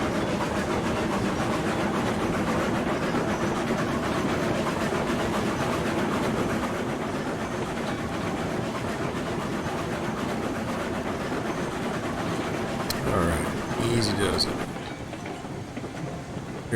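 Freight train hauling iron ore cars rolls along steadily in Railroads Online, a continuous rumble with rhythmic clatter close by, swelling briefly with brighter metallic squeal near the end.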